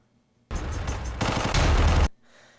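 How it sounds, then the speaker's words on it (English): A submachine gun in a Black Ops 2 trailer fires a loud, rapid continuous burst for about a second and a half, close and dense, then cuts off abruptly into a faint tail. "it sounded to me like it was a submachine gun"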